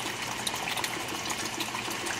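Water runs steadily into a cooking pot to cover uncooked rice for a vegetarian green bean rice dish, making a continuous close gushing, splashing pour with no talk over it.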